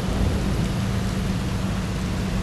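A thunderstorm with heavy rain in the video game Mafia, a dense, loud, steady downpour with a low rumbling underneath, continuous throughout.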